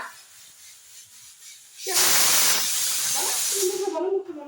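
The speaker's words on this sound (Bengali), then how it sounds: "কেমন করে সিটি পড়ছে প্রেসার কুকারে?" A pressure cooker in a home kitchen lets out a loud, sustained hissing whistle of escaping steam for about two seconds, then quieter hiss as a voice talks nearby.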